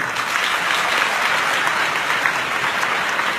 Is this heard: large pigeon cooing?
no